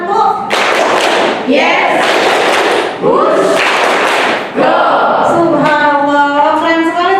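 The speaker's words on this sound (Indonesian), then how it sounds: "coba sekarang tepuk 1, 2, 3, Yes. tepuk 3, 2, 1," A class of children claps together in short, rhythmic bursts to a count during an online lesson, each burst a tight flurry of claps separated by brief pauses, with young voices calling out between them.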